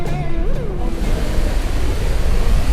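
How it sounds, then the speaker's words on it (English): Horseshoe Falls at Niagara Falls, water pouring over the brink and plunging, a loud, steady broadband roar like heavy surf that fills the whole clip, with no speech. "the sheer power in this water flowing over and dropping"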